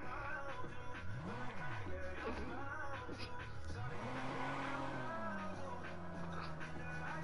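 A car drives in Fortnite, its engine rising and falling in pitch as it revs and shifts, fairly quiet with game sounds in the background.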